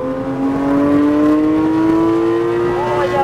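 A car accelerating on a driving course, its engine note climbing steadily and held at a close, continuous rising whine for about three seconds, with an instructor's voice faintly underneath.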